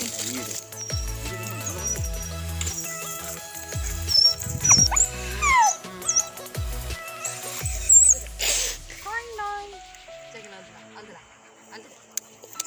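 Dogs whimper and yelp near the microphone amid a busy outdoor farm scene, with speech and bird chirps in the background.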